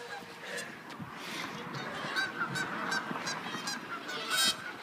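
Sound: geese fighting and honking

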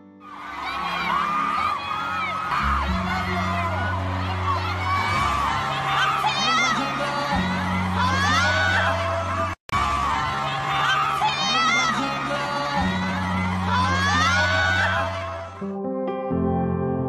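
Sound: concert crowd of fans screaming

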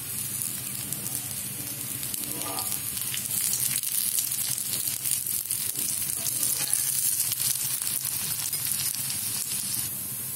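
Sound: ragi dosa roasting in ghee on a pan

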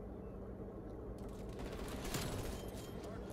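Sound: PPSh submachine gun firing in video game Call of Duty Vanguard

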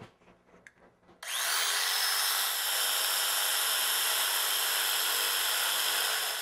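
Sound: saw cutting crown molding

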